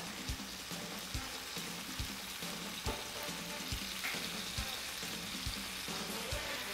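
Steady, busy sizzling of bacon frying in a pan, with continuous crackle and occasional soft pops and scrapes, close and fairly loud.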